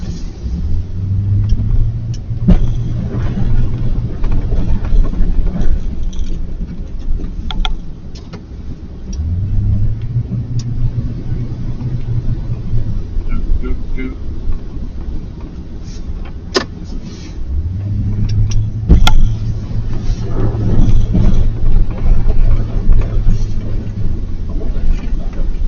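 Vehicles rumble and drive through a crowded snowy parking lot, low engine drones swelling and fading in three long passes against steady background noise, with faint voices now and then.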